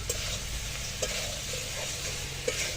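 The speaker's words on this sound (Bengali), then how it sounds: "কথা বলতে বলতে কিন্তু তরকারি মশলা সব কিছু একসাথে কষানো হয়ে গেল।" Soybean and potato curry with spices being sautéed in a pan, giving a steady close sizzle with a few soft stirring scrapes and no talk.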